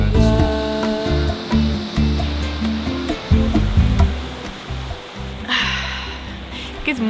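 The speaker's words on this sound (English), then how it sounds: "It's so nice to wake up here with the sound of the waves in the sun." Ocean waves on a beach in Mexico make a steady broadband wash of surf, fairly loud and continuous, while a person talks over it.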